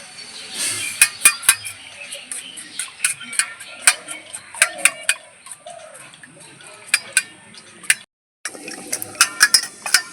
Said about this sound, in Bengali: আদিকে ডিমটা ফাটিয়ে নেব